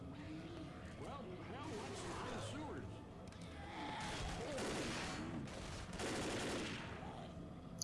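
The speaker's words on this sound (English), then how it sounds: "just keep shooting at the hole." Bursts of rapid gunfire and explosions fill a zombie fight in the video game Left 4 Dead, with continuous shooting layered under overlapping chatter from players and game voices.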